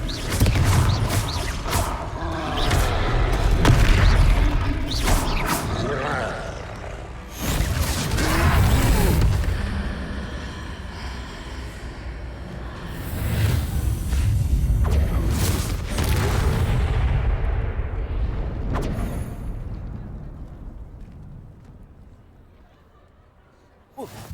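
Confringo fire spells fired during a troll fight in Hogwarts Legacy, heavy booming blasts and whooshes in several loud surges, mixed with crashes and thuds, with in-game voices speaking over the action before it fades.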